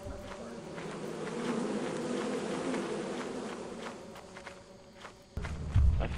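Bees in the video game Lethal Company buzz in a continuous insect drone, with scattered footstep-like taps on top. Near the end a low thump and rumble break in, and no one speaks.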